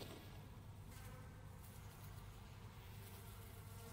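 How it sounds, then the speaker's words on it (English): Flies buzz in a prisoner-cage area of the video game Amnesia: Rebirth, a faint, steady insect drone blended into a low ambient rumble for the whole stretch, with no talking. "Can hear the flies buzzing."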